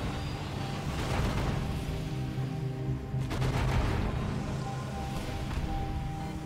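Gunfire from a ship's gun in the video game Sunless Skies: a dense, continuous barrage of booming shots with rumbling low end, steady and loud throughout, with a brief lull before a renewed burst midway.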